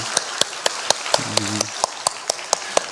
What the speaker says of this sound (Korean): 하나님께 영광의 박수 한번 올려드리겠습니다